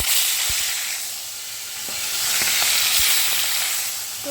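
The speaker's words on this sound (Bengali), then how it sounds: "তো বন্ধুরা দেখো, চারটে চারটে করে মাছগুলো ভেজে নিচ্ছি" Marinated fish frying in smoking-hot oil gives a steady, loud sizzle and hiss throughout, with a few soft clicks and pops scattered across it and no talking.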